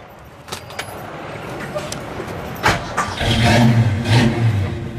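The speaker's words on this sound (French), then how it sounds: "Donc là, on entend bien le fonctionnement du big block à l'arrêt." A big-block V8 engine idles while parked, a steady low rumble that grows louder and rougher partway through, with a few clicks and handling noises early on and brief background voices.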